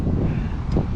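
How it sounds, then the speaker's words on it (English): Strong wind buffets the microphone as a loud, steady rumbling roar with brief gusty surges. "So the wind is blowing super, super hard."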